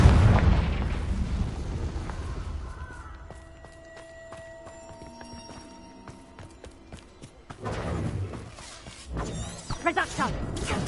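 A Confringo blasting spell bursts at the start in Hogwarts Legacy, a loud, fiery explosion that fades into magical chimes and tones before another burst near the end, with a voice speaking over it.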